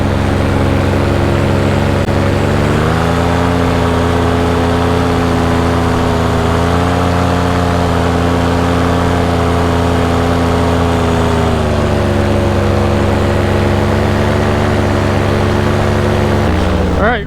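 A paramotor's small engine drones loudly and continuously in flight with a buzzing propeller tone, its pitch shifting slightly as it runs, with wind rushing past.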